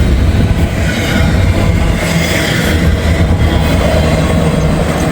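A slow train rolls through a turn in strong, gusty Ohio wind, giving a steady, loud rumble that runs the whole time, with wind noise mixed over it and no talking.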